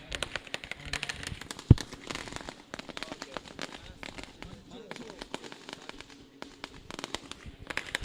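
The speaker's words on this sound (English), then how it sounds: "Look at the fireworks going on here. Fireworks started." Fireworks at a cricket trophy ceremony, a dense run of crackling pops and bangs with one sharp loud burst near the start, heard at a distance amid crowd noise.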